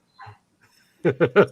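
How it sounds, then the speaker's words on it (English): A dog in the background gives a faint whimper, then three loud, quick barks in a row close to the microphone. "the dog talks back all the time"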